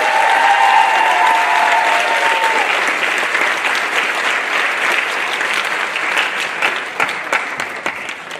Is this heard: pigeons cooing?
no